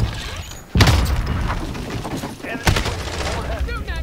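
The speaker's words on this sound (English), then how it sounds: "Enemy overhead. Shooting at me." Gunfire in the video game Call of Duty: Warzone: two loud close bursts of shots with heavy booming impacts, separated by a couple of seconds, amid ongoing battle noise and a faint whine at the end.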